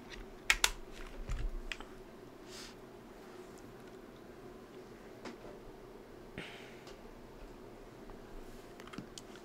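Keys clack on a Logitech G Pro X 60% keyboard, an opening burst of quick taps followed by sparse, scattered single clicks over a faint background hum.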